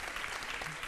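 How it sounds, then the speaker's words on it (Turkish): Studio audience applauding an orchestra on a Turkish TV talk show, a steady dense wash of clapping filling the whole short stretch at moderate level. "Burada oldukları için onlara şiddetli bir alkış rica edeceğim."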